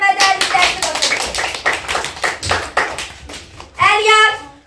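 Schoolchildren clapping together in a classroom, a loud run of quick, uneven claps lasting several seconds, with young voices calling out near the end.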